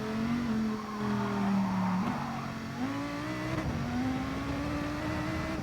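Race cars in Gran Turismo Sport: a loud, continuous engine drone whose pitch climbs and drops with gear changes, along with tyre noise, with no speech over it.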